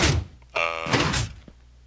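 A door in Minecraft with the Tekkit mod opens with a short, hollow wooden thunk that stands alone, followed by a softer knock a moment later.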